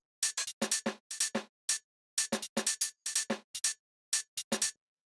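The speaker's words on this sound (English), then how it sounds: "So the next thing we have here are these hi-hats, or this percussion drum rack" Sharp, bright hi-hat hits play in a syncopated percussion loop, crisp ticks and short hisses in quick clusters separated by brief silences.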